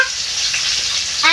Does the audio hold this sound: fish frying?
yes